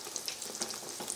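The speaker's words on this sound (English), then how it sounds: "you just stick it in the frying oil" Breaded eggplant fries in hot oil, giving a dense, even sizzle with small crackling pops throughout the short stretch.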